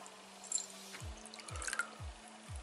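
Rust converter liquid poured into a bowl, a light wet trickle with small drips and splashes, close by and fairly quiet, with no talking.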